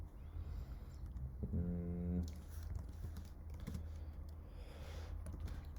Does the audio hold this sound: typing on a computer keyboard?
yes